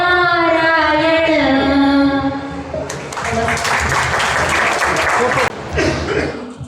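An audience at a stage talk breaks into loud, dense clapping partway through. The applause follows a sung line and continues strongly to the end, with a brief dip before it rises again.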